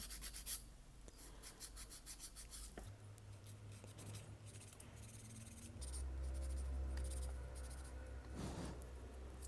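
A nail file rasps back and forth against a polygel nail laid over a natural nail, a steady close scratchy rubbing that continues throughout with shifting pressure and low background hum.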